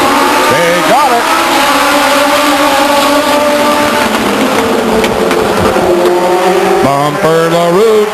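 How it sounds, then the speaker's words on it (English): Several Legends race cars roar together at close range around Stockton 99 Speedway, their engines rising and falling in pitch as they accelerate past, loud and continuous, with a race commentator talking over the pack. "Scheduled for 10 laps of racing here at Stockton, coming around for green."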